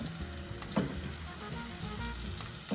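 Chopped onion frying in hot olive oil, a dense, continuous sizzle close up with a couple of brief stirring scrapes.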